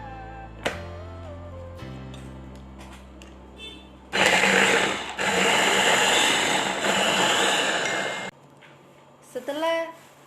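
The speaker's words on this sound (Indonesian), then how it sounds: "selanjutnya kita akan menghaluskannya menggunakan blender" A blender purees chopped tomatoes for DNA isolation, roaring loudly in two bursts with a short break between, amid quieter clicks and handling noises before and after.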